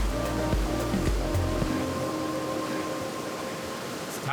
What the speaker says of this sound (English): that is hands down one of the coolest surf waves in the world.